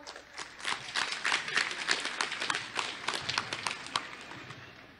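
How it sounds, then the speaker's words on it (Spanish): Applause from an audience at a ceremony opening a new school in José Carrasco Province, Bolivia: a quiet, moderately distant spread of scattered hand claps that builds over the first second, holds steady, then thins out toward the end. "Recibimos con unos fuertes aplausos, por favor."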